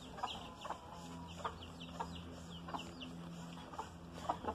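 An old rooster of about four years clucks softly in a small pen, a string of short, evenly spaced clucks over a low steady background hum.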